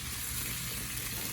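A raspberry chipotle meatball sizzles in a pan over medium-high heat, giving a steady, dense frying hiss that carries on without pause.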